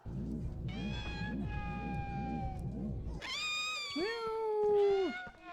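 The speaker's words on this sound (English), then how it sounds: "pixies just sound like cats." Pixie creature meowing just like a cat in the Harry Potter PS1 video game, several drawn-out, pitch-bending meows rising over steady game music, loud and close.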